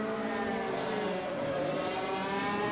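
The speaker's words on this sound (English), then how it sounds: "God, that F1 car sounds insane. It's so loud." An F1 race car engine in a racing video game, at the Estoril GP, screams at a high sustained pitch, loud and close, with a dense harmonic whine and no break.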